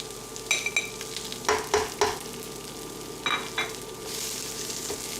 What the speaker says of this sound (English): So let's go ahead and saute up our onions.